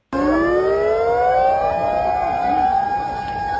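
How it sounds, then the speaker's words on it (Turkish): A loud Japanese tsunami warning siren starts abruptly and wails continuously, its pitch sliding steadily upward and holding high. "Japonya tsunami uyarı sireni."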